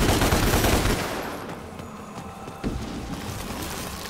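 Video game gunfire from Devil May Cry aimed at a spider: a dense, loud burst of rapid shots at first that fades into quieter rumbling and a sharp single hit, without talking.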